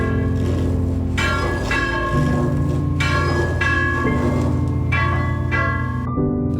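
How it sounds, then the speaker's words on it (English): A church bell on top of a historic chapel building rings loud and close, with repeated strikes about once a second whose long, humming tones overlap and sustain through the whole stretch, then stop near the end. "The bell on top of the church still rings."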